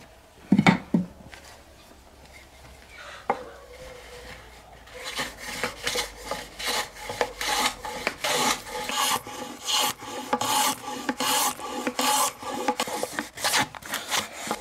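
Steady rhythmic rasping strokes of a pearwood hand plane straightening wood edges, repeated scraping passes up close after a few sharp knocks at the start.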